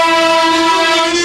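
Street traffic in India heard as a single loud, sustained horn blast, a steady tonal blare held for just over a second.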